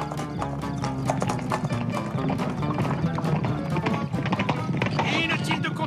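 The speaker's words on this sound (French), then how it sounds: "Joe, il y a plein de cavaliers qui arrivent." A cartoon sound effect of many riders' horses galloping, dense rapid hoofbeats pounding loud and continuous, with voices talking over the thundering herd.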